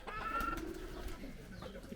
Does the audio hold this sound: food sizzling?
no